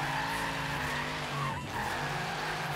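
A tuned drift car in the racing game Forza Horizon 3 holds a steady engine whine while its tires squeal through a slide, loud and continuous with a brief dip midway.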